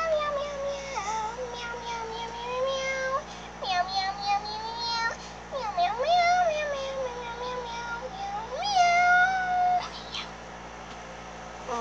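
A cat meows over and over in rising and falling, drawn-out cries, close and fairly loud, with brief pauses between calls and a low steady hum underneath.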